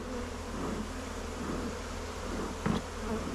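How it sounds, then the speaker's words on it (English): Honeybees buzz around the hive close to the microphone, a dense steady drone of many insects with a brief louder pass near the end. "I got bees on the GoPro. Bees in my face."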